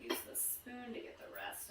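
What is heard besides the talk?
No everyday noise stands out behind the speech.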